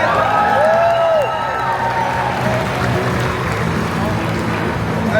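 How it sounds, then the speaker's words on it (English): A crowd at a Pokémon cosplay show at the European International Championships in London cheers and applauds a cosplayer in a handmade Team Plasma Grunt costume, with loud, dense clapping, whoops and shouts filling the hall throughout. "make some noise for Kay, everybody!"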